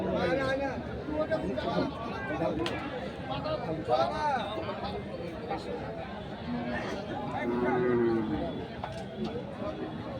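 Busy outdoor crowd chatter with people talking over each other, and bulls lowing now and then amid the noise of a cattle market for Eid sacrifice in Thakurgaon.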